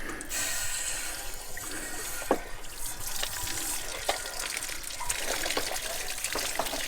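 Water draining out of an RV fitting during routine maintenance, a steady soft trickle and gush with occasional scraping clicks from a wire brush, close and fairly quiet.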